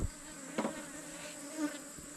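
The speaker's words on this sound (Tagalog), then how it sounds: "sus nako ang tagal na hindi nakarating napakanabangan na ng pukyutan" Honeybees buzzing nearby outdoors, a steady insect drone with a few louder passes as one flies close, no talking.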